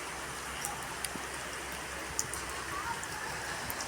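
Rain falling in a residential area, a steady close wash of hiss with scattered sharper drips and splashes on nearby surfaces.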